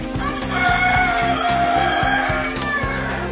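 Kadaknath chickens in a large shed for grown birds, with a rooster crowing loudly and close while hens cluck repeatedly beneath it, the calls overlapping densely across the whole stretch.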